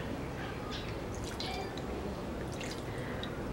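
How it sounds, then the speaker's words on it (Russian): Water poured onto skin trickles and drips softly in close, light splashing and dribbling sounds over a quiet hiss, no talking. "Сначала мы просто льем воду."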